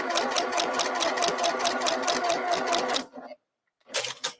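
Sewing machine stitching quilt rows, a steady fast motor whir with rapid needle rhythm running loud and close for about three seconds, then stopping, followed by a brief clatter.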